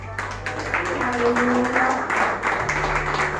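Church congregation applauding: steady clapping from many hands, moderately loud throughout, under a voice speaking, with a low organ or keyboard tone sustained beneath.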